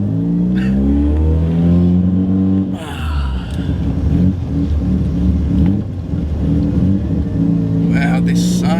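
A 1970 Mazda R100 Series 2 drives along a street, its engine note rising and falling through loud revving pulls and gear changes, close and strong throughout, with a brief dip near the middle.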